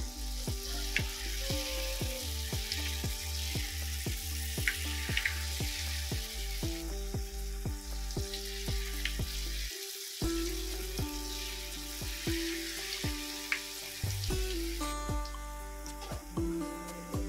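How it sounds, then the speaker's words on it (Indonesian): Peanut rempeyek frying in hot oil gives a continuous crackling sizzle, close and steady, with rhythmic clicks and scraping from stirring throughout. "Aku masukin kacangnya setelah mau digoreng ya"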